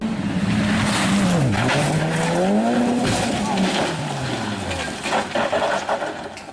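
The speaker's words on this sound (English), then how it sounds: "Bodywork and debris went flying everywhere as the car snapped around in a violent spin" A rally car skids and snaps into a violent spin during a crash. Tires squeal loudly and the engine pitch swoops up and down, with clattering debris toward the end.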